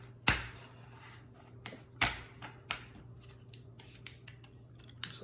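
Plastic crate storage wall panels snap into place during assembly, a series of sharp, distinct clicks spaced irregularly over a quiet background, about seven pops, close and fairly crisp.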